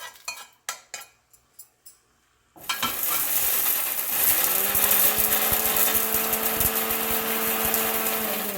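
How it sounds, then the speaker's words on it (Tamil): An electric mixer grinder pulverizes dry-roasted spices into powder for shark curry (sura kulambu): a few sharp taps, a brief pause, then the motor roars up into a loud, steady, high-pitched whirring grind that holds to the end. "ட்ரை ரோஸ்ட் பண்ண எல்லாத்தையும் ஒரு மிக்சியில் போட்டு ஒரு பவுடர் ஆக்க போகிறோம்"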